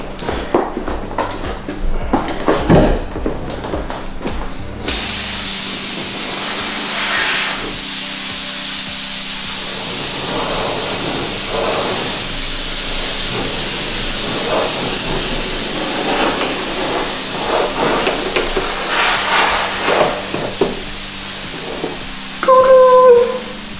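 A handheld steamer is in use during a paint protection film installation on a car bonnet. After a few seconds of clatter, a loud, continuous steam hiss runs close for nearly twenty seconds and sputters near the end.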